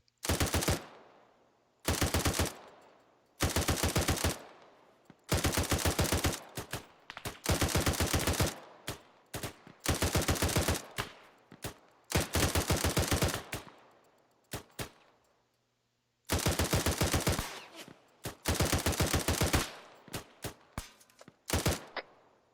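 Machine gun fire in the military video game ArmA during a milsim session: repeated long automatic bursts, loud and close, broken by short pauses and a few quick single shots, continuing for over twenty seconds.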